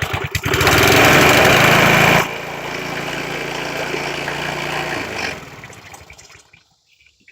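A vintage Craftsman self-propelled reel lawn mower engine, cold and long unused, cranks and catches into a loud running roar, then drops to a steadier lower idle before cutting out into near silence.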